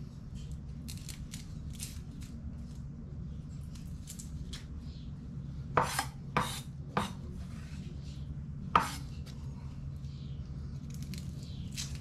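Garlic is being chopped with a knife, a series of sharp crisp cuts, a few clustered together and then a single one, faint and close against a low background hum.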